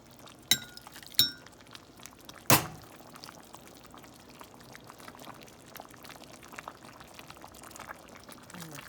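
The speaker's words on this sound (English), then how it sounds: "So let's just put a little bit in a bowl." Corned beef and cabbage soup is ladled into a bowl, with three sharp clinks of the ladle against the pot or bowl, followed by soft pouring and a faint simmering bubble.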